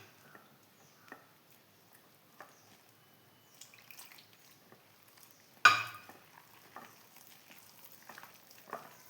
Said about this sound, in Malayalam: എന്നിട്ട് കുറേശ്ശെ വെള്ളം ഒഴിച്ചിട്ട് നമുക്ക് കൂട്ട് കലക്കിയെടുക്കാം